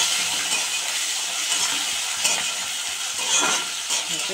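Prawns and green chilies frying in oil in a pan with a pinch of asafoetida, giving a close, continuous crackling sizzle with scraping stirs through a few seconds, without talk.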